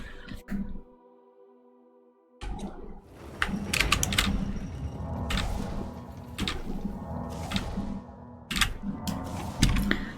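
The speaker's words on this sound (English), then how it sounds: "You will hear my keyboard and my mouse" Computer keyboard and mouse clatter in close, irregular bursts of key taps and clicks, with a brief quiet gap early on, over a faint background drone.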